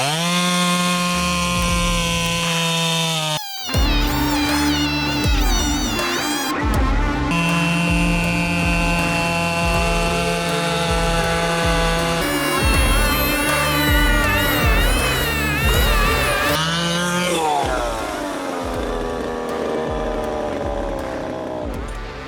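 A SEQUOIA SPC0812 gasoline chainsaw revs loudly and bites into wood held down outdoors, the engine pitch dropping and climbing through repeated cuts with a brief stall-like gap early on, steady and close throughout.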